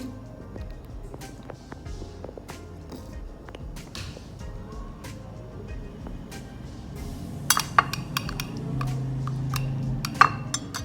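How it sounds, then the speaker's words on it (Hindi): Mayonnaise and fresh cream are stirred together in a bowl, with soft scraping and stirring that turns into sharp spoon-on-bowl clinks and taps near the end, close and fairly quiet. "क्रीम और मायोनीज़ को अच्छी तरह मिक्स करना है।"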